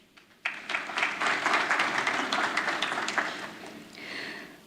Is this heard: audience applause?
yes